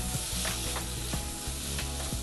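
Ginger and bitter gourd sauté in a pan with a dense, continuous sizzle, punctuated by repeated knocks and scrapes of a spatula stirring at a regular pace, close and fairly loud.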